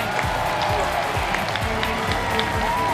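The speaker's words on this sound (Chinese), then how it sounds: "有掌声吗？" An audience at a Chinese TV talent show stage applauds, a dense steady patter of many hands clapping at close range throughout, with a voice underneath.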